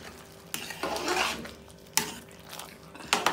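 Bottle gourd khichdi being stirred in a cooking pot, a few scraping strokes of a spoon against metal with wet, thick mushy swishing, close and moderately loud.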